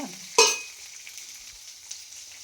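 Onion pieces fry in a pan for a ridge gourd curry, a soft, thin sizzle that starts with a sharp clink of a utensil and then stays quiet and steady.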